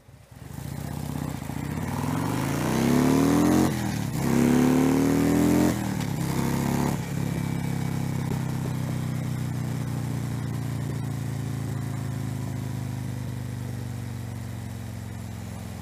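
A Harley-Davidson motorcycle accelerates hard through traffic, its engine note rising in pitch through several gear shifts before settling into a steady, loud cruising drone close to the microphone, with no talking.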